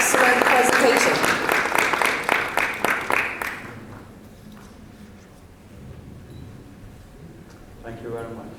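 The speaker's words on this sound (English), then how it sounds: "give a round of applause to Mr. Jabir Walji for his excellent presentation" Audience applause after a conference presentation and trophy handover, dense and loud clapping for about three and a half seconds that stops abruptly, followed by quiet room ambience and faint murmurs.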